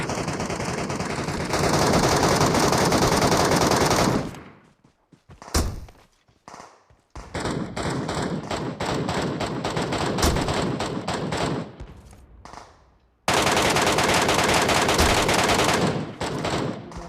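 Dense bursts of automatic gunfire in the video game PUBG Metro Royale, loud and sustained with brief quiet gaps, volleys cutting off and resuming in rapid rattling streams.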